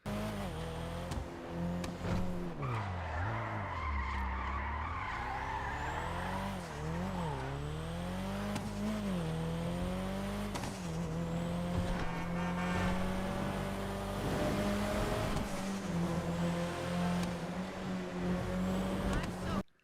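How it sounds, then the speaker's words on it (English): A video game car engine in GTA 5 revs and whines through shifting gears, with tires squealing as it drifts, loud and continuous throughout, with a muffled voice underneath. "this is easily my favorite sounding car in the game, no doubt"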